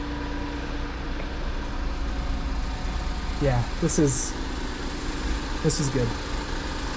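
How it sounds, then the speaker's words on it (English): Steady low idle from the engine of a 1999 Mitsubishi Minicab kei truck after an oil change, a constant hum with faint higher whine, while someone speaks briefly over it. "The engine definitely sounds happier with new oil."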